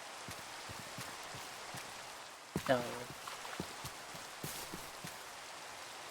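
Steady rain hisses through a Minecraft world, an even patter beneath a voice that speaks briefly near the middle.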